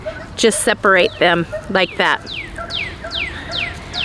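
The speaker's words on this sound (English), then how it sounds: "I apologize for the dogs barking." Dogs bark and yip several times nearby under a person talking, followed by a run of fainter falling whines or yelps in the background.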